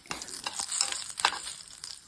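Cut dried chilli sizzles in oil for a tempering for brahmi chutney, a soft crackling hiss with faint spatters and stirring scrapes, close but quiet, no voices.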